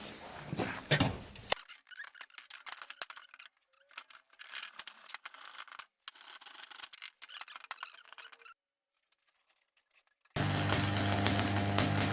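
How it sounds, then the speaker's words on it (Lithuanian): Metal welded for a spider sculpture gives intermittent bursts of close crackling and sputtering separated by short quiet gaps, ending in a louder, harsher steady roar. "Tai dabar ir kaip tik bandom suvirinti."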